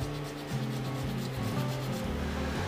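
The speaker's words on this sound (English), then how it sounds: "Sanding, sanding, sanding, more sanding, sanding, more sanding," Sandpaper rubbing an epoxy resin handle blank as it spins on a wood lathe, a continuous close scratchy hiss over the motor's steady low hum.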